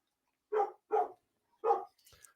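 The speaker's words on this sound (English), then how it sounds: "y'all hear the coffee dog in the background. That is our Pyrenees." A Great Pyrenees barks in the background, three deep, evenly spaced woofs followed by a softer trailing yip, fairly distant against near silence.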